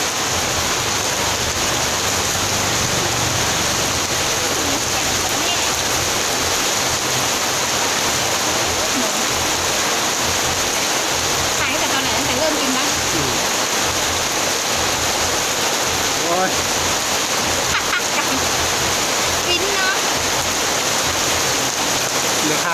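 Steady, dense hiss of rain pattering on surfaces, loud and continuous throughout with no letup.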